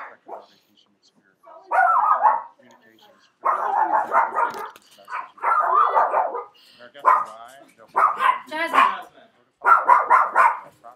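A dog barks repeatedly in short bursts, fairly close, with brief pauses between rounds and some yipping mixed in.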